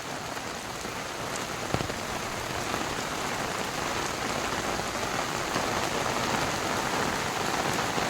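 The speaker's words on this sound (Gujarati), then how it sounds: "ધોધમાર વરસાદ છે." Heavy rain pours down steadily at Uparkot Fort in Junagadh, a dense, even hiss of drops hitting the surfaces close by, with one brief sharp knock early on.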